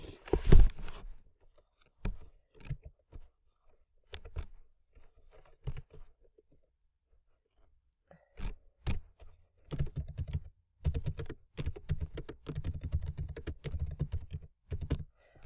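Typing on a computer keyboard while renaming a chart title, scattered key clicks that start sparse and then turn into a denser burst of rapid keystrokes, close and fairly quiet.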